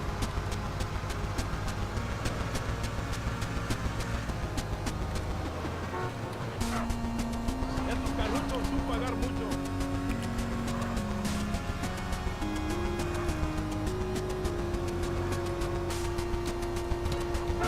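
A car driven in GTA San Andreas hums along steadily, with a horn tooting in sustained tones partway through over a busy, dense game soundscape.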